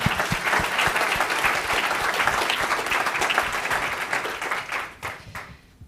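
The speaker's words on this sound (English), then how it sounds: "which I think deserves a round of applause" An audience at a business innovation event breaks into sustained applause, dense clapping from many hands holding steady for several seconds before thinning and fading out.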